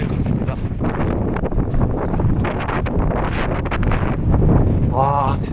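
Strong, cold wind buffets the microphone as someone runs outdoors on Jeju Island, a dense, steady roar throughout with brief talk near the end.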